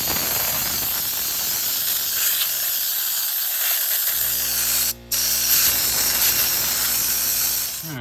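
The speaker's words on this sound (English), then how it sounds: "I also blew out the housing here with the brushes in it." Compressed air blasts dust out of the brush housing of a Yamaha G29 electric golf cart motor, a loud, steady close-up hiss with one brief break before it resumes.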